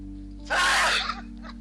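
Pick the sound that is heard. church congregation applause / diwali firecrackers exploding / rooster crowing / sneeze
sneeze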